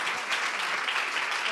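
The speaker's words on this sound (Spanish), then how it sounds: "un fuerte aplauso para ellos." An audience at a podcast event applauds the presenters as they take the stage, a brief, dense burst of clapping with no voices.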